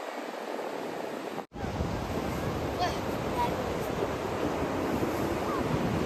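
Ocean surf and wind at a sand beach on the Washington coast fill the air with a steady broad wash, gusting against the microphone, with a momentary dropout early on.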